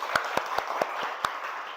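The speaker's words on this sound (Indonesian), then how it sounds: "Tepuk tangan dulu." A class of students clapping, a short burst of about six distinct handclaps at an uneven rhythm over faint room murmur.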